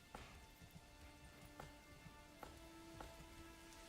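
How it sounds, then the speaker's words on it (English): Rain falls in the medieval village-building game Manor Lords, a faint steady hiss with soft scattered taps and a few brief sharper ticks, distant and quiet throughout. "This has got to be England. It rains a lot."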